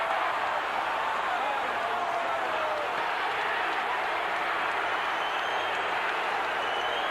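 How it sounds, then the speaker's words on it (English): An arena crowd at the Carl Williams vs Mike Tyson heavyweight boxing match roars and boos in a dense, continuous wash of noise that holds steady throughout. "there's some booing going on,"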